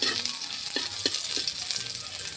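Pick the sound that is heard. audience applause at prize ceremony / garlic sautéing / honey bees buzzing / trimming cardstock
garlic sautéing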